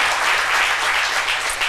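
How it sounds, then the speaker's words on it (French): A television studio audience applauds loudly and steadily, a dense wash of many hands clapping with no voices over it. "Merci beaucoup d'applaudir très fort le sage Haïté qui est avec nous en plateau."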